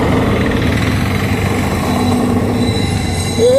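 A Konkan Railway train rolls past close by with a continuous heavy rumble of wheels on track, and a brief metallic squeal near the end.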